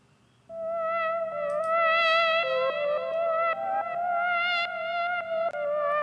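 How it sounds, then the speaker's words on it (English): A sustained synth-like tone with stepping pitches runs through a FabFilter Volcano 3 filter pushed into distortion, gritty harmonics and slight intermodulation building over several seconds. "you can actually hear it starting to distort, a little bit of intermodulation happening there"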